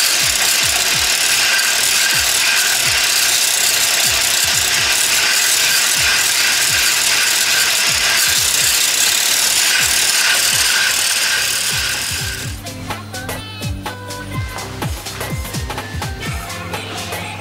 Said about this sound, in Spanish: Y ahora la clara la vamos a batir un poco, pero sin llegar a punto de nieve.